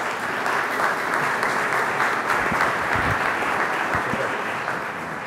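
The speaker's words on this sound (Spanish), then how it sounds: "Recibamos con un fuerte aplauso" Dense, sustained applause from a ceremony audience at a formal Lima city council session, many hands clapping steadily and fairly loud, filling the hall without a break.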